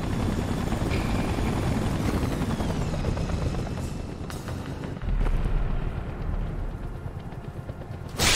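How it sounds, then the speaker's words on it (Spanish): Helicopter in the Spider-Man 3 video game on PC, a steady loud rotor roar filling the whole stretch with rumbling wash and a few swells, no talking. "Tengo que impedir que el helicóptero se estrelle."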